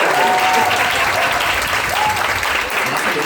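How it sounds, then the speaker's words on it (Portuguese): Audience applause at a drag queen talk show, a dense, steady wash of clapping filling the whole stretch, loud and close with faint voices mixed in. "Agora me aplaude"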